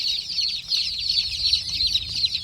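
Dense chorus of day-old chicks peeping continuously, many high, rapid chirps overlapping at close range with a faint low rumble underneath.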